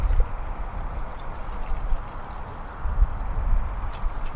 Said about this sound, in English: So now I'll just go ahead and flush this in the funnel here.